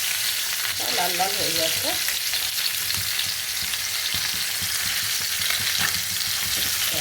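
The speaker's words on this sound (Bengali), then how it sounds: "বাটা মাছটা একটু উল্টিয়ে দিই। জ্যান্ত মাছ বেশি ভাজবো না," Fresh whole pond bata fish sizzles steadily in oil in a kadai, a dense, continuous crackle that carries through the whole stretch, with a brief voice over it near the start.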